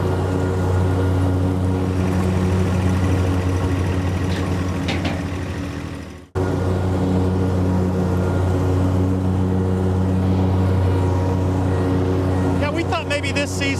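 A Dixie Chopper zero-turn mower's engine runs steadily and loudly with a constant low droning hum, cutting out briefly midway before resuming at the same level.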